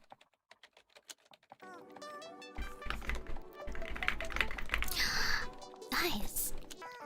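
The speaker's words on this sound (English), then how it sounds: "I realized putting my mic close to my keyboard is really awesome. Like, listen to this." Computer keyboard typed on with the mic placed close, crisp clacking keystrokes at first alone, then continuing under a voice talking and brief louder clattering bursts.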